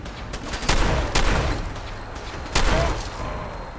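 Gunfire in Fallout 4, several sharp shots cracking out in separate bursts over a rumbling background, close and loud, with short gaps between volleys.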